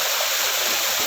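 Strong current of water rushing through a lagoon channel, a loud, steady broadband roar that fills the whole short stretch with no voices over it.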